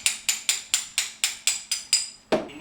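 A ratchet wrench loosening bolts on a Honda F23 engine block, nine evenly spaced close clicks in a quick steady rhythm followed by one heavier metallic clunk.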